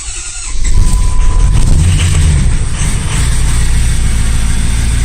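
A cold 6.0 Powerstroke diesel truck engine with a stage 2 turbo cranks briefly, then catches and settles into a loud, rough, continuous idle with a high whine on top.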